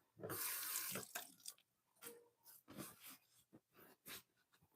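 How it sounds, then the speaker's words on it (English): Running tap water splashes at a sink during handwashing in a cake-decorating kitchen, a loud steady gush at first, then broken bursts of water and hand rubbing that come and go. "I need to wash my hands."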